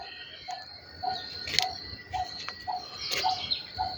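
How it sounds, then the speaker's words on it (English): Small birds chirp among trees at dawn, repeating short bright calls at a steady pace, with a faint high insect-like trill running underneath. "listen to the chirping of birds. Such a pleasant sound early in the morning."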